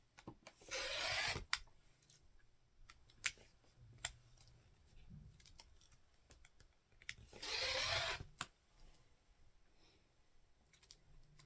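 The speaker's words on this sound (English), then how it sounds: "I'm going to go ahead and cut my borders too" Cotton quilt fabric being cut into long border strips in a quiet sewing room, two separate dry, scraping cuts each lasting under a second, close and fairly loud, with faint small handling clicks in between.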